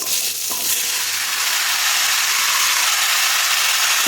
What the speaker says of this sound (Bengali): এখন কড়াইতে আরও তেল রয়েছে, ওর ভিতরেই কেটে রাখা পেঁপে আলুটাকে দিয়ে দেব।